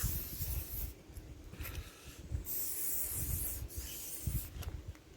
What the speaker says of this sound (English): give everywhere a good spray with repellent